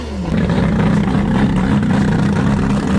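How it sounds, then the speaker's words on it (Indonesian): Turbocharged car engine running hard, a loud, close, sustained growl with a steady low droning tone that rises slightly at the start and then holds, with no voices. "Suara mobil bermesin turbo memang terdengar galak ya guys,"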